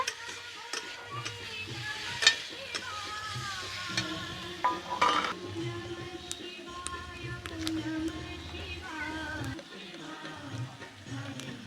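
Boiled potatoes being stirred and sautéed in spice masala in a pan for a pangas fish curry, with steady stirring scrapes and soft sizzling throughout, a few sharp utensil clinks, at close range.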